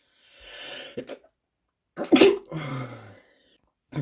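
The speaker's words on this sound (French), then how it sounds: "Le temps d'éternuer" A single person sneezes sharply up close, with a short breathy lead-in and a brief voiced tail, in a quiet room.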